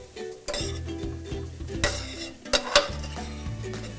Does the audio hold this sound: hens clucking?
no